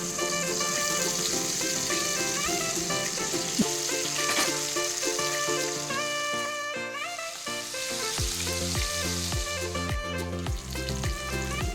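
Spicy rohu fish coated in ginger, garlic, pepper and lemon fries in hot oil, a steady crackling sizzle running throughout beneath prominent melodic music.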